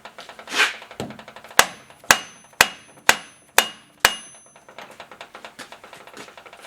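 A hammer tapping a gear into a Willys CJ3A transfer case during a rebuild: six loud, ringing metallic strikes in a steady rhythm, surrounded by lighter rapid taps.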